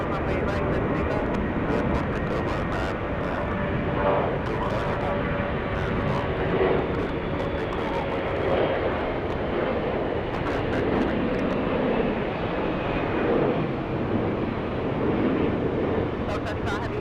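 Airliners taking off and landing at Atlanta Hartsfield-Jackson International Airport make a steady, broad engine roar that swells slightly now and then, with faint radio voices underneath.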